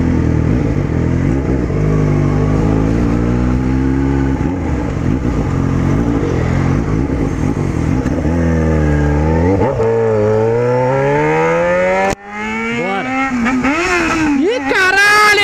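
Yamaha XJ6 motorcycle engine revving up and down repeatedly, loud and close, with rising and falling pitch, while people talk over it.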